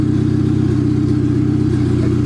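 A turbocharged Honda Civic wagon engine idles steadily at close range, a loud, even low rumble with a regular pulsing beat and no voices over it.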